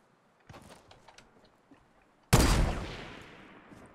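Gunfire in Fortnite: a few faint distant shots patter early on, then one loud close gunshot cracks and rings out with a long decaying tail, no voices over it.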